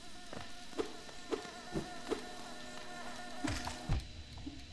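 Insects hum steadily in a new area of Hollow Knight, a continuous close drone layered under the game's music, punctuated by several soft, regularly spaced thuds and plucks.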